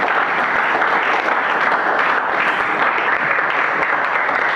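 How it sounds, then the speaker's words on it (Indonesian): A class 11 group of students claps in a classroom, a dense, steady round of applause from many hands filling the room at close range throughout. "Tepuk tangan untuk kelas 11 ya"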